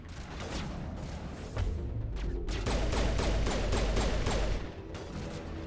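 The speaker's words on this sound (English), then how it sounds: "Oh man, they're shooting me from a distance. pistol surprisingly accurate." Pistol fire in a Mass Effect Legendary Edition fight with Geth, rapid shots crackling over a dense rumble of combat noise and mechanical clatter, heaviest in the middle stretch and easing toward the end.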